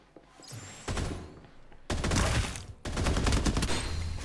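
Rapid automatic gunfire in the shooter game Farlight 84, loud dense bursts in two long volleys after a shorter opening burst, with distant shots and clicks in between.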